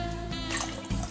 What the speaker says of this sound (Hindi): अब मैं यहाँ पे और 2 कप पानी डाल रही हूँ